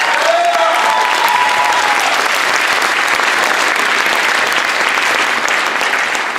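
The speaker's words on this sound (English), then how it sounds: "So I want to honor them by giving them applause right now." Steady, dense audience applause at an education event honoring teachers and students, loud and continuous throughout with no pauses, a brief faint tone near the start.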